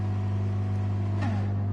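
A BMW M4 in a racing video game holds a steady engine drone at the start line, close and loud, with a brief rising rev sweep near the end.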